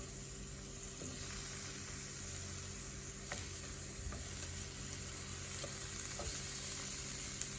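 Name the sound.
eggplant frying in hot oil in a pan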